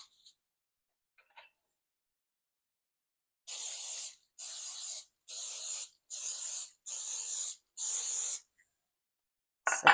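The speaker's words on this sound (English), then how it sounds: "we got to spray our pans" Cooking spray is sprayed onto donut pans in a home kitchen, six even hissing bursts of about a second each with short gaps between them, close and clear in an otherwise quiet room.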